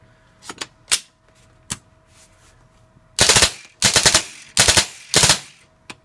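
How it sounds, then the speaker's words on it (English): Tippmann M4 paintball marker firing on full auto: a few single pops, then four short rapid bursts of loud, close, sharp shots, each burst lasting about half a second, with no sustained stream of fire. "see where we're at as far as the rate of fire goes on the full auto setting"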